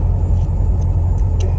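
A car with a CHT engine idles nearby in a short, steady, loud low rumble with a faint higher whine, heard alone with no talking.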